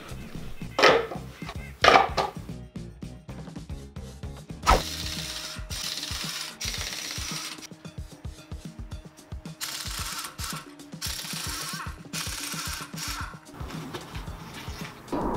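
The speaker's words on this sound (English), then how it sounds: "jacking up the rear and putting up the rear on jack stands" A jack ratchets up the rear of a Toyota Tacoma in a garage, with rapid, regular mechanical clicks in long runs broken by louder clunks and knocks as the truck is set onto jack stands.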